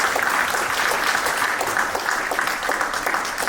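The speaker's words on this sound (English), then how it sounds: "Please, let's give a round of applause." A symposium audience claps in a dense, even round of applause that stays loud and steady for a few seconds, with no voices over it.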